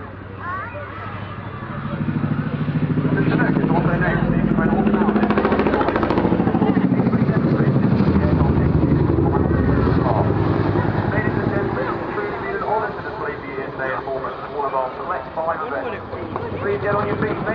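An RAF Chinook helicopter from the 2012 display team performs at the Bournemouth air show, its loud, heavy, throbbing rotor roar swelling and holding for several seconds, then easing, with crowd voices mixed underneath.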